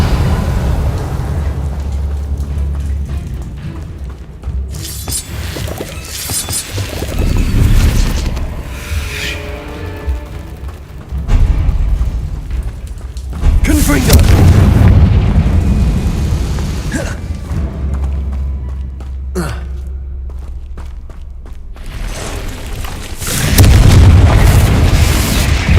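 Confringo blasting spells in Hogwarts Legacy going off repeatedly: a series of loud booming explosions with deep rumbling bursts, separated by quieter gaps and ending in a strong final blast.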